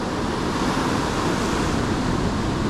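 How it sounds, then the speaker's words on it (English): Ocean surf at Isipingo Beach during a spring tide, a dense continuous roar of breaking waves and wind filling the air, steady and loud with no voices. "have a look at these waves guys"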